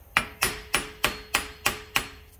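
A hammer gently taps an axle out of a rear wheel hub: seven evenly spaced, sharp metallic knocks in a steady rhythm, close by and alone.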